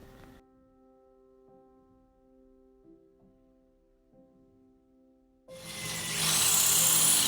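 Power drill boring a 6mm hole, quiet tonal motor whine at first, then a loud harsh grinding of the bit cutting in for the last couple of seconds.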